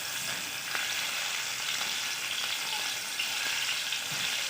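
Prawns frying in hot oil in a pan, an even, close sizzling hiss with scattered light pops and crackles, steady and uninterrupted, with no talking.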